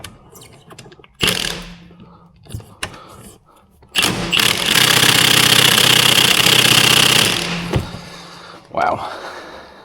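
Size 55 Torx caliper bolts being undone on a Citroën DS3's front brakes: a loud, sustained rattling mechanical burst of about four seconds, with shorter knocks and clatter before and after.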